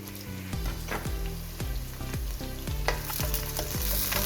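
Chicken frying on high flame in a large kadai, a steady close sizzle with repeated scraping strokes of a spatula stirring at a brisk, regular rhythm.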